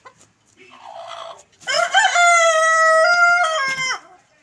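A tame pet backyard hen giving a soft low cluck, then a longer drawn-out call, close and clear with no talking.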